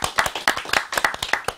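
Small audience claps by hand after an improvised musical performance at a gathering, with sharp, fairly regular claps from a few people, moderately close and alone without talk.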